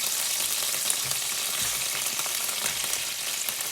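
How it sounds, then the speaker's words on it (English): Sliced onion frying in pan drippings with no added oil, a dense, even sizzle and crackle heard up close with faint stirring and no voices. "We're going to cook it in the pan drippings"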